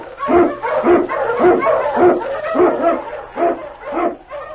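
Husky sled dogs in a 1943 Yukon radio drama bark and yip in a rapid, steady chorus, about a dozen loud close barks with whimpering edges and no talk over them.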